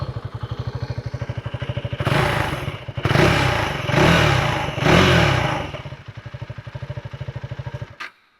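A 2025 KTM ADV 390 X Plus single-cylinder engine idles up close with a fast, even thump, is revved in several surging blips, then settles back to idle before being switched off.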